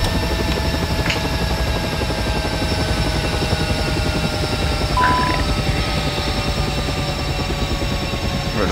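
In the Aerofly FS4 flight simulator, a UH-60M helicopter's engine shuts down: a loud, continuous rotor and turbine roar carries high whining tones that slowly drop in pitch, with no talking over it.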